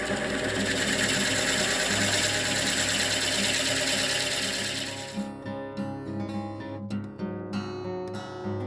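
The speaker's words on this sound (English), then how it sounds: "I'm using a Forstner bit to remove the material from the inside of the box." Forstner bit hollowing out the inside of a wooden lidded box, a loud steady drilling whine for about five seconds that stops, followed by scattered knocks and scraping.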